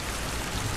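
Rain falling steadily, a dense broadband hiss of drops without pause, loud and close, with no voices.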